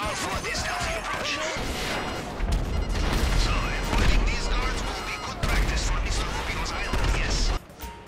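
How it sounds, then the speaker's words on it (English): Dense, repeated gunfire bursts and impacts from a shootout in GTA Online's Cayo Perico heist, loud and continuous with crashing hits, under a backdrop of game noise. "I deduce from the sound of gunfire that you have not gone for this stealthy approach."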